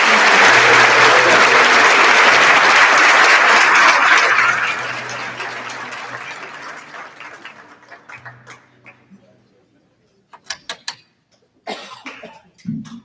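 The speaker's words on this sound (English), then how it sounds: "Let's have one large round of applause for" Loud, dense applause at an awards ceremony honoring nominees, sustained for several seconds before thinning into scattered claps, a few coughs and near silence with isolated sharp sounds at the end.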